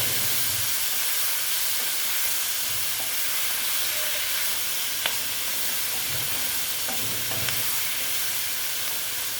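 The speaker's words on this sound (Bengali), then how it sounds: "হলুদ দিয়ে এটাকে আমি ভালো মতন ভেজে নেব" Small mourola fish frying in hot oil with turmeric: a loud, steady sizzling hiss throughout, broken only by a few soft clicks from the pan.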